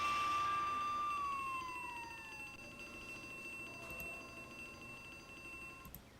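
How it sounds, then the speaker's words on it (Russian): Fire alarm siren in the horror video game Harvester: a loud, steady electronic wail that slides downward in pitch, then settles into a fainter, sustained alarm tone with a brief chime near the end. "Взаимодействуйте, блядь, с пожарной сигнализацией."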